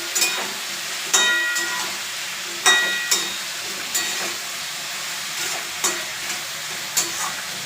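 Malabar spinach stems and leaves stir-fry in a pan with mustard and poppy seed, a loud continuous sizzle broken by sharp clattering scrapes of a spatula every second or so.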